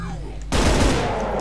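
Heavy gunfire in Brutal Doom Eternal running on GZDoom erupts abruptly after a quiet half-second, then continues as a loud, dense, sustained barrage to the end.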